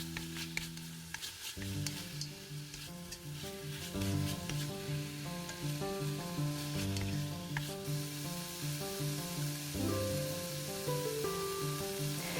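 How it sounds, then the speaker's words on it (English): Chopped pork stir-frying in a spoonful of oil in a pot over medium heat, a steady sizzle with stirring scrapes throughout and no speech. "Put a chopped pork inside and stir them for 3 minutes and 30 seconds."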